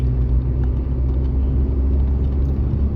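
A steady, heavy engine rumble with constant low drone of an old-model red KSRTC bus running close by on the Madikeri ghat road, with no voices.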